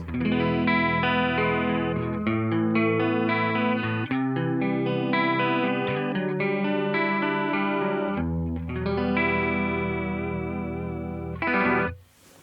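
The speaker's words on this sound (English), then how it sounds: "Sounds like a chorus. Pretty subtle." An electric guitar plays sustained chords through a subtle, shimmering chorus effect from a Line 6 MM-4 Modulation Modeler, ringing continuously before cutting off abruptly at the end.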